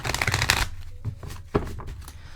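Oracle cards shuffle in a dense, close riffle for about half a second, followed by softer scattered card taps and slides.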